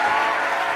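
Applause fills a television talk show studio, a dense, steady wash of clapping from a studio audience that stays loud and even for under a second.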